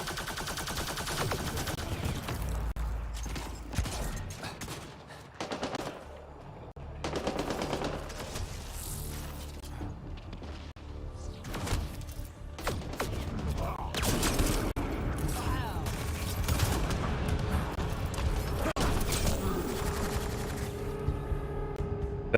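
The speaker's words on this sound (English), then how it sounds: "Petra, what are you shooting at?" Gunfire in the sci-fi video game Mass Effect: Andromeda: dense bursts of automatic fire and mechanical weapon noises rattle through a busy firefight, with intermittent voices over the action.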